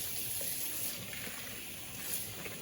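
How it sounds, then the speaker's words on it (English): Water from a tap or shower runs steadily through curly hair during rinsing, a continuous close splashing rush with no speech. "letting the water just run through until it starts to run clear"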